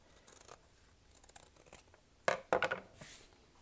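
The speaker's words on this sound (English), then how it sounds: "I just round the corners with my scissors" Scissors round the corners of cross-stitch cloth in a few short, crisp cuts, close and fairly quiet, with faint rustling of fabric between them.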